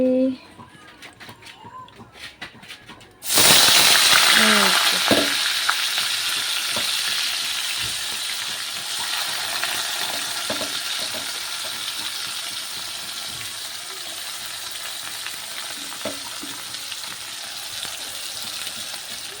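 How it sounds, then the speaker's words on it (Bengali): Onions hit hot oil in a kadai and burst into a loud, dense sizzle about three seconds in, then keep frying steadily and a little softer, with a few faint sounds before the drop. "কড়াই তেলও দিয়ে দিলাম তেলটাও গরম হয়ে গেছে এখন হচ্ছে পেঁয়াজটা দিয়ে দিই তাড়াতাড়ি করে"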